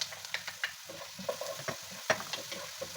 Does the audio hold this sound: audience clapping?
no